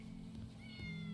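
A cat meows in a cat cafe in the video game Yakuza 6, one drawn-out, rising meow over a low steady background hum, close and clear with no talking.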